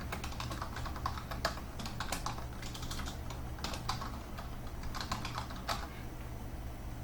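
Quick, irregular keystrokes tap on a computer keyboard while a Java program is set up, a close steady patter of clicks with no voice over it.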